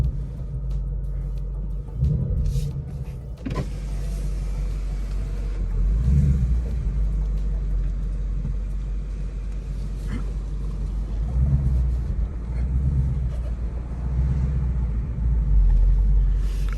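A stock Ford Mustang GT fastback with a 5.0L V8 and manual gearbox rumbles steadily from inside the cabin while driving, its low engine drone swelling in several gentle pulses of acceleration, with a sharp click near the start.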